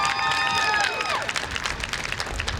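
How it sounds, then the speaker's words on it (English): Applause from the crowd at a high school graduation ceremony, a dense patter of clapping under a few shouts or cheers, steady and moderately loud through the short stretch. "Can we get a round of applause for her?"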